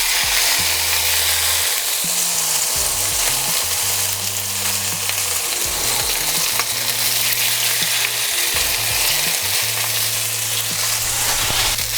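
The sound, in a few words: salmon frying in olive oil in a hot pan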